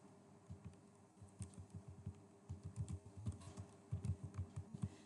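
Typing HTML text on a computer keyboard, quick irregular clusters of soft key clicks close by, pausing briefly between bursts at a low, quiet level.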